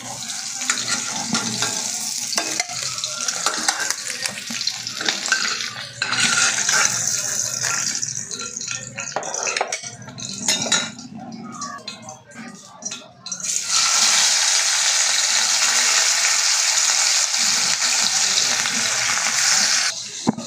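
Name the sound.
fish frying in oil in a pan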